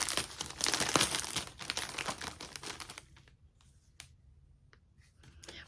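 Plastic yarn packaging crinkled close up, loud dense rustling for about three seconds, then a few sparse crackles and clicks in near quiet.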